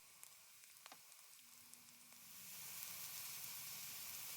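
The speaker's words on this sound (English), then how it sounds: "Heat up some vegetable oil at medium heat. Add 1 medium-sized yellow onion, some minced garlic," Onion and minced garlic frying in vegetable oil over medium heat, a faint sizzle that swells into a steady, louder hiss partway through, with no voices.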